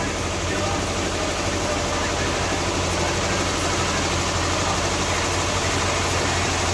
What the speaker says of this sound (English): Nope, no difference. Still misfiring.